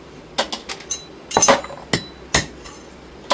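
Snail shells being snipped for ginataang suso, Lucban Quezon style: a series of sharp, separate clinking cuts with irregular spacing, close up and fairly loud, with a brief cluster in the middle and no talking.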